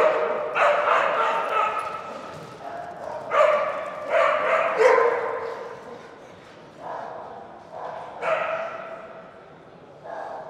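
Two or more dogs bark in repeated bursts of sharp yips, bow-wows and whimpers at a gun trade show, loud and close, with people talking in between.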